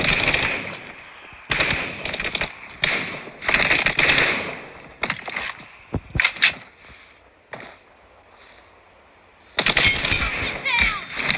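PUBG Mobile gameplay brings loud, close bursts of automatic gunfire in rapid volleys, separated by a few scattered single shots and brief quiet gaps.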